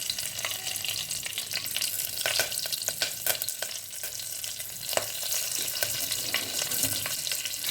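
Curry leaves, cumin and asafoetida sizzle steadily in hot oil in a home kitchen pan, a continuous crackling hiss with scattered sharp pops, close and fairly loud, no talking.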